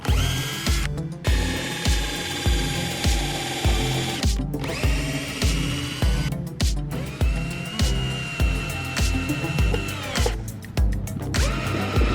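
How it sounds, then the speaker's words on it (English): A power drill whirs in repeated short bursts, driving screws through reused pallet wood into the corners of a raised garden bed, the motor pulsing rhythmically and loudly up close with brief pauses between screws. "it's now time to connect them with some screws"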